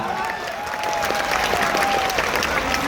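Loud audience applause fills the hall at a Chhatrapati Shivaji Maharaj Jayanti celebration held by Kamal Sporting Club in Chandrapur, steady dense clapping with crowd noise throughout.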